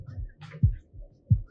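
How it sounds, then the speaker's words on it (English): A heartbeat sound effect from the 1995 movie Friday pulses in two deep, close double thumps, a soft beat followed by a louder one, repeating at an even rhythm with a low hum beneath and no talk. "Same heartbeat."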